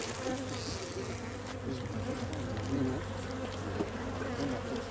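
Honeybees hum at an open hive during an oxalic acid dribble treatment, a steady, dense, low drone with no break.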